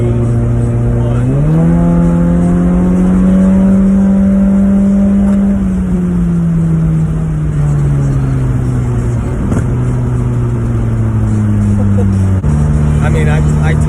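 A Honda CR-Z running a KTuner V2 performance tune accelerates hard, its engine note climbing steadily through the gears, with audible shift drops between pulls, loud from inside the cabin.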